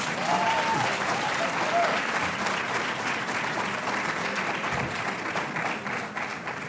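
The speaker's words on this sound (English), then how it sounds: "warm round of applause" A large audience applauds after a university science faculty public lecture, an even, sustained roar of clapping from many hands. It holds at a constant level throughout with a brief voice near the start.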